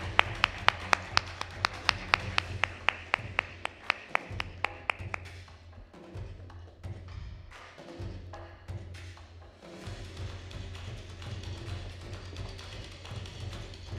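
Keynote audience at a conference clapping for the speaker, a few loud individual claps at first, then a sustained, softer round of applause filling the hall.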